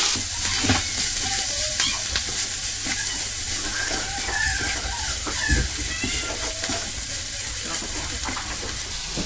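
Dandelion greens being stirred in a hot pan with cooked lardons, a steady loud sizzle and frying hiss with scraping stir strokes throughout, close and without talk.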